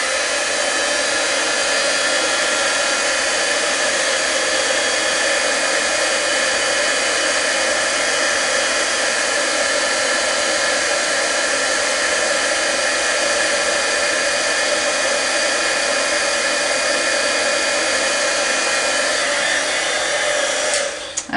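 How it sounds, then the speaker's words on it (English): A heat gun blows continuously over embossing powder on fabric, a loud, even, hair-dryer-like rushing whoosh that holds steady for about twenty seconds with no talking. "now all we need to do is heat it. So we're just going to heat that."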